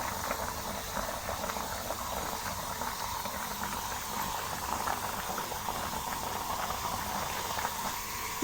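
Plum (aloo bukhara) chutney boils steadily in a pot, a continuous dense bubbling with soft popping and hiss, close and even throughout with no talk.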